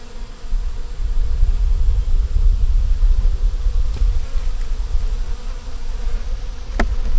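A small honeybee swarm at a hive, with a dense, loud, continuous buzzing drone of many bees close to the microphone, unbroken throughout and with no talk.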